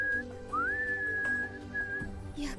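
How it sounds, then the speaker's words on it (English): A character in the Utawarerumono Mask of Truth video game whistles a thin, steady tune that slides up into a long held note and then a shorter one, over soft background game music. "Checkmate pointedly looks the other way, whistling as though wholly uninvolved"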